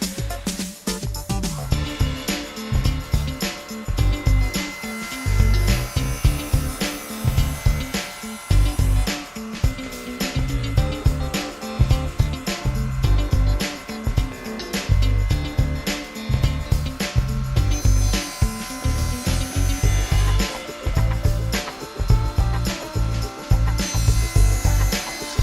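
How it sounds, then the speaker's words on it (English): Hand saw making a series of rhythmic cuts for tenon shoulders in wood for a Morris chair, steady loud back-and-forth rasping strokes continuing throughout with brief pauses between runs. "And I set the inside of the blade to my line, and now I'm just going to make a series of cuts"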